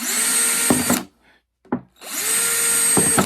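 A power drill bores holes into recycled plastic pots in an off-grid garden, two loud whining bursts close by separated by a short pause with a brief trigger blip between them.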